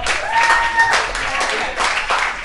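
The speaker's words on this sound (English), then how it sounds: "Let me get a round of applause for the brother" An audience at a live poetry event at the Five Spot bursts into loud, dense applause and cheering, with a voice briefly rising above the crowd.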